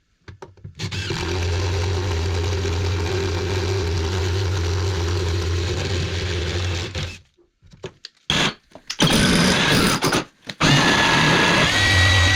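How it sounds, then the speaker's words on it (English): A power drill boring through a wall at an angle during a hidden underfloor leak repair, a loud continuous motor drone for several seconds, then stopping and restarting in short bursts. "So I'm going to drill through there at a bit of an angle"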